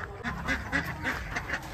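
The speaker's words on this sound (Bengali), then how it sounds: "সব হাঁসগুলো উপরে চলে এসছে" Several ducks quack in repeated, overlapping bursts at a rural home pond with flowering plants nearby, fairly close and steady throughout, with no talking.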